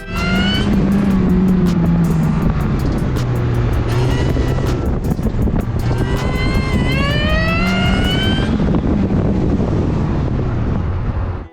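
Supercharged BMW Mini Cooper S, modified with a different supercharger pulley and air intake, driving at an auto test: a loud, close engine that rises and falls steadily through gear changes, with heavy wind buffeting over the microphone throughout.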